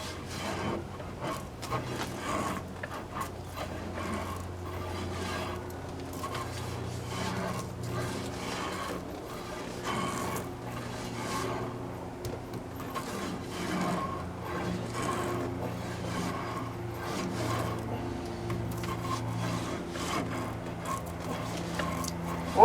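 Continuous rasping scrape of a tool pushed back and forth through clogged boiler tubes to clear out crud, steady rhythmic rubbing with a hollow metallic ring, close and moderately loud throughout.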